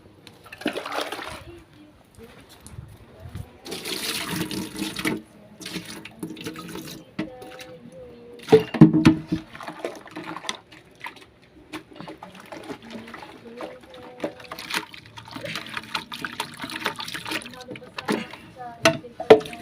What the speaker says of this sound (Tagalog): lalagyan natin yan ng tubig